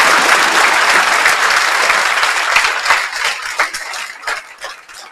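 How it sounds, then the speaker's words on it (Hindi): Audience at a session for exam toppers breaks into loud sustained clapping that gradually thins into scattered individual claps toward the end, with no speech over it. "तो इसलिए एक बार वापस से जो है वो ताली बजाएं।"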